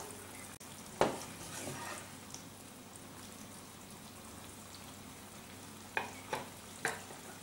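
Mushroom stew in tomato sauce bubbles and sizzles quietly in a pot, with a few sharp scraping knocks of a spoon as it is stirred, spaced apart over the steady cooking hiss.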